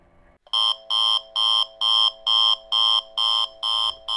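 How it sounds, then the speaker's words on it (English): A planter's fertilizer flow monitor sounds a blockage warning: loud, clean electronic beeps in a steady on-off rhythm, about eight evenly spaced pulses after a brief quiet start, with no speech. "So when you have a row turned off, it'll beep at you"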